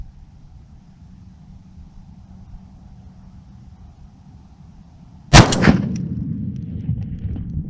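A .50 caliber rifle fires a single very loud shot, with a sharp crack and a booming echo that rolls on for a couple of seconds after a stretch of low, steady background rumble.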